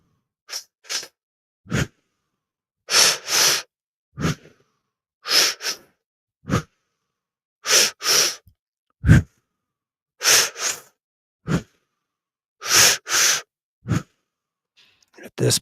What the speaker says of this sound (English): Just continue breathing.